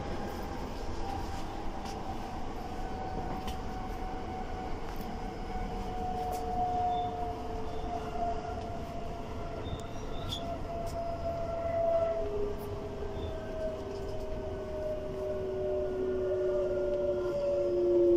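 A Class 376 electric train runs near Sidcup station, its steady rumble joined by rising and falling motor whine tones that hold through the passage, fairly loud and continuous with no talk.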